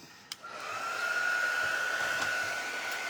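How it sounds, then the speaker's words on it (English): A hair dryer starts with a click and then blows steadily with a whining hum and airy rush, loud and close, with no talk over it. "Can you hand me the dryer?"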